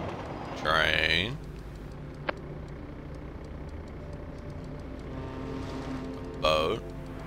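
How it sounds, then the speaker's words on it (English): A boat's engine drones steadily in the video game A Memoir Blue: a low, continuous hum with one small tick, framed by short bursts of a voice at the beginning and end. "Boat."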